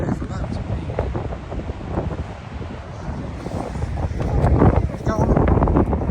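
Blustery coastal wind buffeting a nearby microphone over rough sea, with a continuous rushing roar that grows stronger toward the end, while people talk under it.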